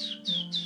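A human voice imitates the mating call of the greenfinch with three short, shrill, whistled squawks in quick succession, close and clear.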